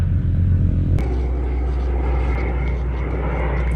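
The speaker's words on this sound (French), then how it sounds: "il nous a montré l'avion que mon copain allait piloter. Il nous a dit que c'était un VL3" Steady engine drone of a VL3 light aircraft in flight, a loud continuous rumble with a sharp jump in pitch and intensity about one second in, then holding an even, close, full-bodied roar with no talking.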